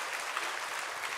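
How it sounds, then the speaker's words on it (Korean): A church congregation at a Sunday afternoon worship service applauds to encourage the middle-school youth group, a short burst of steady, dense clapping filling the room with no voices over it. "격려의 박수 우리 다음 세대 자녀들에게"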